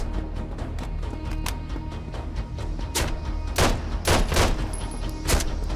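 Gunfire in the video game Road to Vostok crackles in loud, dense bursts, with several sharp, close reports rising near the end over a rumbling background.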